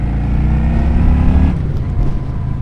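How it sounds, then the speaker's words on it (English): A 2022 Honda Shadow Phantom V-twin motorcycle engine runs with a deep, loud, steady rumbling throb heard close, easing slightly partway through, with no talking. "I really like the sound of this bike. It's just your classic V-twin."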